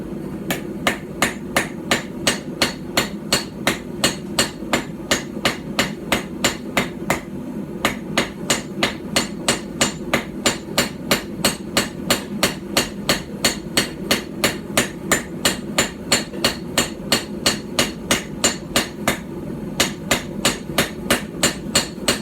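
Hammer forging bevels on an Anglo-Saxon/Viking-style stump anvil: a long, steady run of sharp metallic strikes, close and loud, evenly paced at roughly two to three blows per second with brief pauses, no voices.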